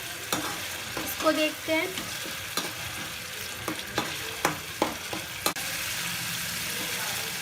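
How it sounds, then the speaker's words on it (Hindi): Onion, tomato and masala frying in a pan for a mushroom and pea curry, a low sizzle with repeated spoon knocks and scrapes, a brief spoken phrase early on, then steady frying alone. "यहाँ पे मुझे मसाले को भूनते टाइम प्याज वगैरह को और टमाटर को यहाँ पे मुझे टोटल 4 मिनट का टाइम लगा है"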